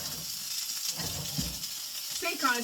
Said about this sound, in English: So it's literally going to be a couple of minutes in the pan, just tossing them so that all sides are nice and brown